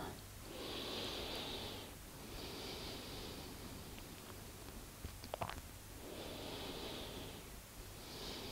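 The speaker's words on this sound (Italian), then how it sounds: "Chiudo gli occhi e rimango respirando." Slow, steady breathing from a person lying on their back in a yoga relaxation pose, eyes closed, with long soft breaths repeating in a calm rhythm. The breaths sit close and quiet over a faint hiss, and one brief rustle of movement comes partway through.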